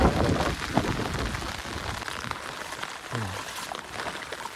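Overnight rain in a village near Botad falls in a steady, dense hiss, close and fairly loud, with a faint voice-like tone surfacing briefly near the end.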